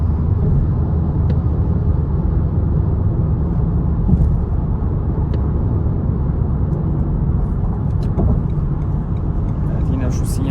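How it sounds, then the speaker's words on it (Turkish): A 2019 Renault Megane 1.3 TCe petrol car with EDC gearbox cruising at about 2000 rpm near 110–115 km/h, giving a steady, loud low engine and road rumble throughout, with someone talking over it. "2000 devirde de 110-115 civarı bir hız yapıyor aşağı yukarı"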